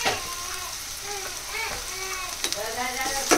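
Mustard seeds, cumin and onions frying in hot oil in a pan, a steady close sizzle with crackles and popping, plus faint stirring scrapes.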